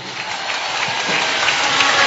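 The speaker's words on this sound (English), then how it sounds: "Pigie Bwana makofi, haleluya." A church congregation clapping for the Lord, a dense, steady round of applause from many hands that grows slightly louder as it continues, with no voices over it.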